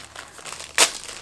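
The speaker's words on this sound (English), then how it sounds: "Let me unwrap this so you can actually see what I'm talking about." Crinkly plastic wrapping is handled around dark gold velvet curtain fabric, with soft rustling building to one sharp, loud crackle before settling back to faint crinkles.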